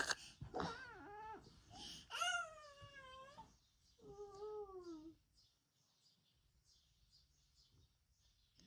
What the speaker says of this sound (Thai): เมียวเมียวเมียวเมียวเฮ้ วัฒนาเอ้ย